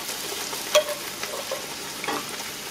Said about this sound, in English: Make sure there's no kids around while you're frying it up.